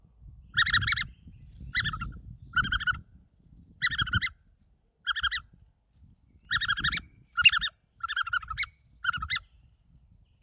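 A HUBERTUS fox call blown back and forth to imitate a mouse squeak, giving short repeated bursts of high, strained squeaks in irregular groups, close and alone.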